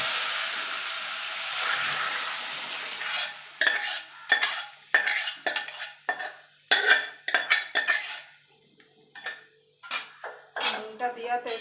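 Boiled urad dal tipped into a hot tempering in a pan: a soft hiss fades out, then comes a run of sharp metal scrapes and clinks from a spoon against the pan, close and rhythmic.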